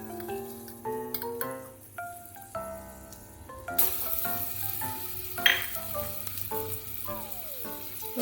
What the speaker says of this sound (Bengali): রসুনটাকে কিছুক্ষণ ভেজে নেব